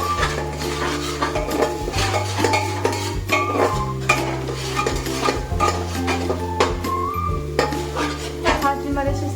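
Peas in masala being stirred and mixed in a pan for a pea curry, repeated spoon scrapes and clinks against the pan over a soft sizzle, with sustained background music throughout.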